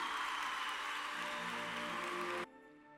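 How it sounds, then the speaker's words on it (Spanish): Broad, loud applause fills a pavilion as the child Fallera Mayor Infantil of Valencia enters, with music playing under it, then the clapping cuts off sharply near the end, leaving the music quieter. "Rebem amb un fort aplaudiment perquè fa l'entrada en este pavelló a Clara Parejo Pérez"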